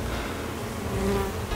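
Honeybees buzzing at a hive during an inspection with capped honey and queen cells, a dense, steady, close drone of many bees with no talk.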